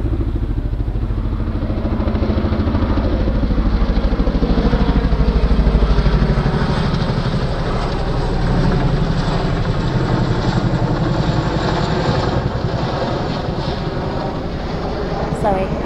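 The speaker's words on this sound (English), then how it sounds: "Oh, there's a chinook." A Chinook twin-rotor helicopter drones over an allotment plot, a loud continuous throbbing roar that swells slightly and holds steady, with a voice briefly underneath.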